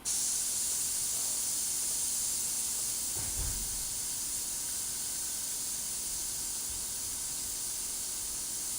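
A steady, airy hiss of a Harder & Steenbeck Evolution airbrush spraying paint runs the whole time, with a brief low thump partway through.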